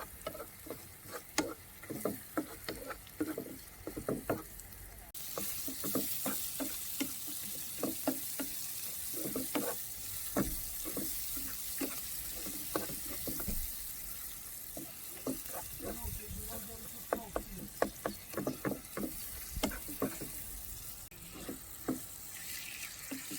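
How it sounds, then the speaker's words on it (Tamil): Around 300 grams of chicken pieces frying in a pan while camping in a caravan in the Netherlands, a steady close sizzle with crackles and scraping stirs throughout, louder hissing for most of the stretch. "நல்லா உரப்பாக ஃப்ரை மாதிரி செஞ்சுட்டு சோறோடு சாப்பிடுவோம்"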